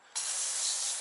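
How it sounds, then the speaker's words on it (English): A sudden pressurized spray of soap from a sprayer starts and continues as a steady, close hiss of liquid being sprayed. "liberally spray this down with some soap just to give it some lubrication"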